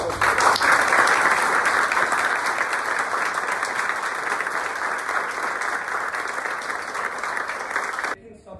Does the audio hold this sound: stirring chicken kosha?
no